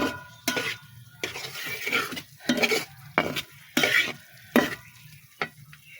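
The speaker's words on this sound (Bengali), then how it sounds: "তেল দিয়েছি, সরষা তেলের উপর দিয়েছি" Mustard seeds sizzle in hot mustard oil in a pan, heard as sharp bursts of crackle and clatter spaced irregularly, close and fairly loud, with quiet gaps between.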